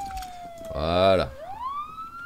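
Police-style siren in the zombie survival game Project Zomboid, a gliding wail that falls then rises again, interrupted by a short burst of a voice, moderately loud.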